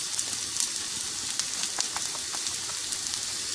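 Onions, green chillies and curry leaves frying in hot oil over popped urad dal, a steady close crackling sizzle with dense pops throughout and no voices.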